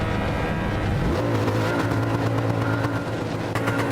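A 1970 2J race car engine in Gran Turismo 7 at Sardegna Road Track, revving loudly and steadily with a rising pitch as it accelerates, with other cars' engines nearby.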